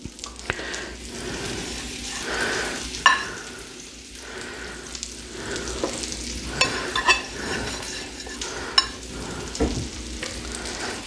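An egg frying on a griddle alongside a full English breakfast, with a steady close sizzle, soft crackles and occasional stirring or scraping clicks throughout, with no talking.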